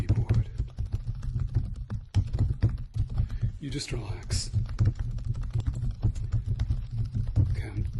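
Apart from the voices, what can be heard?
typing on a computer keyboard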